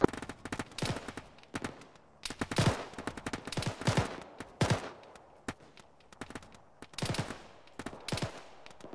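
Arma 3 gunfire crackles in repeated rapid bursts of automatic fire and single shots, fairly loud and close, with short gaps between volleys and no talking.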